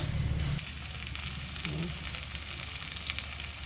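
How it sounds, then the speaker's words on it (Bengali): Boiled chana and fried potato sautéed in a pan for chana paneer masala, a steady close sizzle with a brief louder burst at the start, no voices. "তার মধ্যেই আমরা দিয়ে দেবো সেই সেদ্ধ করে রাখা চানা আর ফ্রাই হয়ে রাখা আলুটা দিয়ে ভালো করে এটাকে একটু কষিয়ে নেব"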